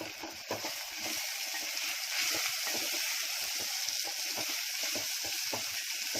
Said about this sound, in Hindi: अब इसमें डाल रही हूँ अपने अंकुरित मूंग बघारने के लिए